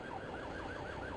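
A wailing police siren sweeps up and down repeatedly over steady traffic rumble, fairly faint and distant, with no voices.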